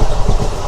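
MEMU express train between Vijayawada and Tirupati running along the rails, a loud close rumble with low-end roar from inside the moving carriage, brief and continuous with no speech.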